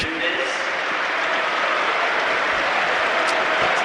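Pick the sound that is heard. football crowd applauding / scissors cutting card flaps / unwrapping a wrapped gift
football crowd applauding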